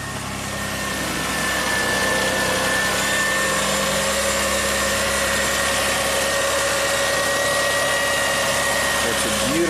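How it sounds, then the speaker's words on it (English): A Lexus V6 engine idling smoothly after a timing belt replacement, a steady close low hum with a faint whine, rising briefly at the start then holding an even purr throughout. "That's a beautiful V6 purr."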